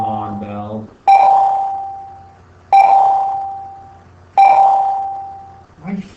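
A bell struck three times at even intervals, each a loud clear ring that decays slowly, with a voice speaking briefly before and just after.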